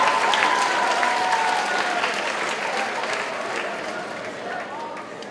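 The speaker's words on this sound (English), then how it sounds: "All right, another round of applause for Shreya." A crowd applauds loudly, the clapping fading slowly over several seconds as cheers and voices mix in.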